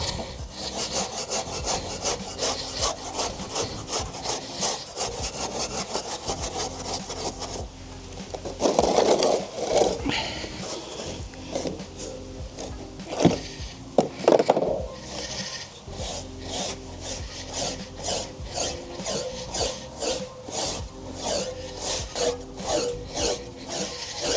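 Weber Master-Touch grill grates being scrubbed clean, a rhythmic rasping back-and-forth scraping in quick repeated strokes, close and fairly loud, with a few heavier knocks midway and no talk.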